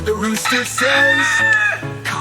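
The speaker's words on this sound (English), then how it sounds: "The rooster says" A rooster crows a loud, drawn-out cock-a-doodle-doo over a bright, busy children's farm-song backing, heard close and prominent for about two seconds.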